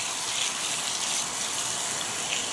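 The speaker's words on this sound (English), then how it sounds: "And then start hosing her down." A garden hose gushes water in a strong, steady hiss at close range, spraying down a driveway for a continuous stretch with no voices.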